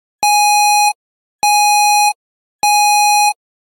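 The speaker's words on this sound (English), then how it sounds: "CIPO detector triggered." CIPO detector alarm on a Commodore VIC-20 style error screen: three identical loud electronic beeps, each about 0.7 seconds long, evenly spaced with silent gaps, a steady harsh tone with strong overtones.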